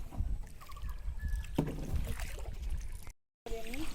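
A rowing boat moves through the water in the Sundarbans mangrove forest, with low splashing and knocking from the hull and oars and some wind noise, briefly cutting to silence before resuming.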